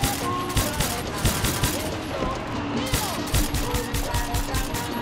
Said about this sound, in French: là j'ai des balles incendiaires